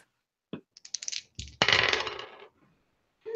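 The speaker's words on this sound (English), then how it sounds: "now roll 2 dice and add 5" Two dice are rolled across a table during a tabletop wargame, giving a quick rattling clatter that tumbles briefly and settles, close and fairly quiet, with no talk.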